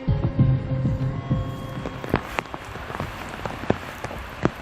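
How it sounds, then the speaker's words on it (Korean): Rain beginning to fall at an industrial hazardous-material tank cleaning site on an afternoon, scattered drops pattering on surfaces with irregular taps amid a low background rumble. "그날 오후 비가 오기 시작했다."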